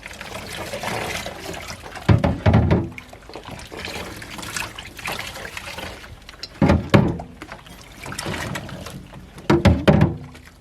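Vinegar rinse water poured and trickling through hair in a pioneer-style wash without electricity, with a steady wet dribble and three louder splashing pours spaced a few seconds apart.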